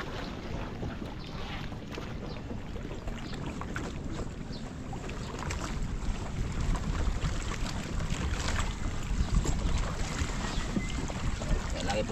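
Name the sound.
boat on the water, heading home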